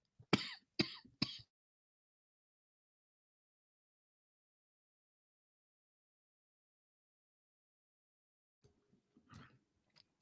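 A few quick throat clears or short coughs come close together at the start, then near silence, followed by fainter throat sounds near the end, with no talk over them.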